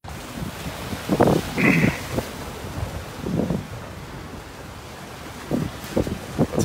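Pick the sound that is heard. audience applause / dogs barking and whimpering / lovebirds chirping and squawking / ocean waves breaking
ocean waves breaking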